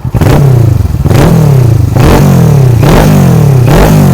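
A 2013 Kawasaki Ninja 650 motorcycle with a full Akrapovic exhaust system revs hard, very loud and close, in repeated sweeping throttle blips about once a second with no voices.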